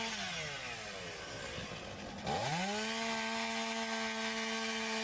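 Chainsaw cutting a parallel cut through roofing materials on a roof during a rafter louver ventilation cut, its engine revving up loud and steady at close range, with no talk.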